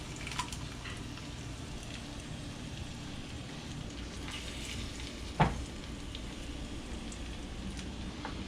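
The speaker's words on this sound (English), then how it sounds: "I'm gonna just get my cheese melting." Cheese melts in a cast iron skillet during breakfast cooking, giving off a soft, continuous sizzle and crackle. Near the middle comes one brief louder tap, and there is no speech.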